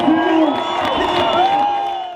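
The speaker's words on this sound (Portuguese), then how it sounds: "Salva de palmas pro Brasil!" A large political rally crowd cheers and whoops with tonal shouts and voices, a loud sustained roar over scattered clapping.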